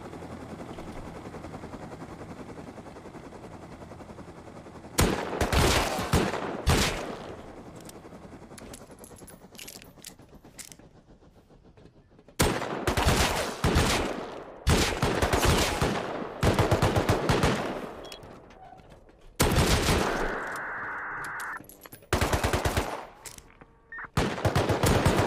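Repeated bursts of automatic turret gunfire in the survival game Rust at an irradiated oil-refinery monument, loud staccato volleys of several seconds each separated by quieter gaps of ambient noise.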